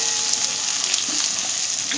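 Chopped capsicum and green chili fry lightly in a pan for chilli chana, giving a steady bright sizzle with faint stirring underneath, close and unbroken.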